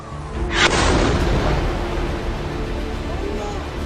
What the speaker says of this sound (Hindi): देखिए, जोरदार धमाका होता है